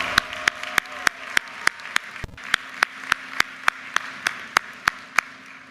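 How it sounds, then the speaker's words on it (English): At a University of Maryland commencement, applause greets Brianna: sharp, evenly spaced claps from one nearby pair of hands ring out in a steady beat over a softer wash of crowd applause. "Give Brianna a round of applause."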